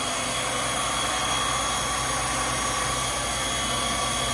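Haas VF3 CNC mill spindle spinning at 4,500 RPM during a warm-up run, a constant loud whine and hum with a dense mechanical roar, steady and unbroken throughout.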